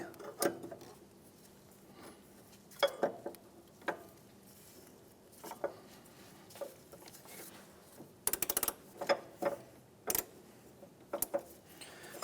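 A 19mm socket on a ratchet works against the tensioner pulley bolt of a Honda Element, giving scattered sharp clicks and metallic knocks at irregular intervals, with a dense cluster near the end, close and fairly quiet.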